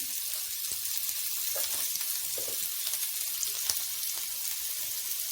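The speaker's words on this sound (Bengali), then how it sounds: "ভাজা ভাজা করে নেব আলুর মধ্যে লবণ আর হলুদ দিয়ে দেবো" Continuous bright sizzling of potatoes frying in a pan, steady and close, with a few faint clicks of stirring.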